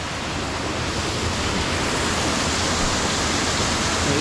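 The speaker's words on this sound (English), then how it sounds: "Relatively calm waterfalls here at Inversnaid today" A relatively calm waterfall at Inversnaid on the West Highland Way in Scotland, running low after weeks without rain, gives a loud, steady, broad rush of falling water with no pauses and no voices.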